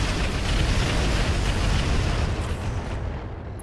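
Weapons firing and exploding in a video game battle, a loud continuous roar of blasts and rumbling booms that holds steady and then slowly fades, with no talk.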